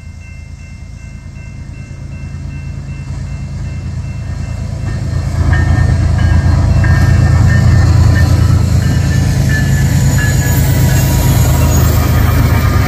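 A freight train passes on a railroad line eastbound, a steady loud rumble of wagons and wheels that builds and stays close, with faint wheel squeal on top.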